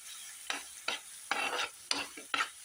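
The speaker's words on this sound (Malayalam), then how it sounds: "ഇതൊന്ന് വഴറ്റിയെടുക്കണം" Small banana pieces sauté in a hot pan, sizzling in five or six brief bursts as a spoon stirs and scrapes them, close and fairly quiet with no talk.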